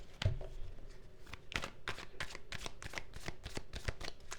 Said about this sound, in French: Je vais juste tirer quelques cartes pour voir.